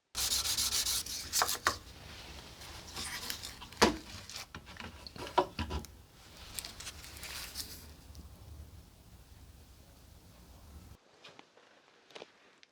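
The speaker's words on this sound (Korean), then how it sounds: "사포는 핸들 쪽과 마찬가지로 한 2000번 정도 그렇게 올라가 주고 표면을 한 번 더 말끔하게 만들어 주겠습니다." Hand sanding of a knife with fine 2000-grit sandpaper, a steady close scratchy rubbing in repeated strokes that thins out and falls nearly silent near the end.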